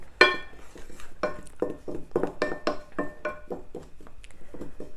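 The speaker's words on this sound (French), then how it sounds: "je prends ma cuillère en bois. Je vais donc mélanger mon sel et ma farine." Wooden spoon stirring salt and flour in a bowl: a series of irregular knocks and scrapes against the bowl, close and fairly crisp, repeating unevenly without any talk.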